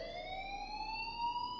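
In the video game Life is Strange, an alarm sounds as a steady electronic siren tone that climbs slowly in pitch, continuous and fairly quiet, with no talking.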